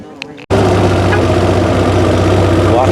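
A quad bike engine idles loud and close, a steady low rumble that starts abruptly after a brief quiet moment and holds without change.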